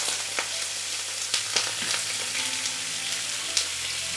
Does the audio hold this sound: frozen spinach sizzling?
yes